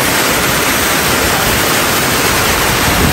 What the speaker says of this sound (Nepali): एकदमै मजाले बाढी जान्छ